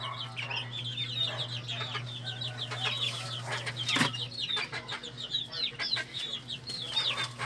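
Chickens clucking steadily in a farmyard, several birds overlapping in quick irregular bursts over a constant low hum, with one sharper squawk midway.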